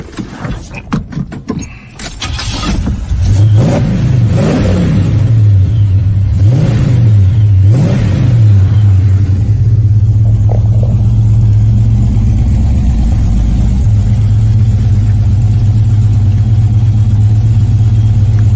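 A muscle car's V8 engine cranks over and catches, rising through a few throaty revs before settling into a loud, steady idle rumble close by, with no talk over it.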